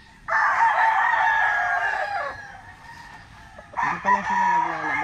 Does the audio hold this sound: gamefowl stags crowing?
yes